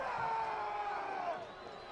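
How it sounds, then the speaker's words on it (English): Stadium crowd at a Hartford Athletic versus San Diego Loyal soccer match groans and murmurs in a sustained, broad wash of disapproval after a high-foot foul call, with a rising collective tone that fades slightly near the end. "Crowd doesn't like it."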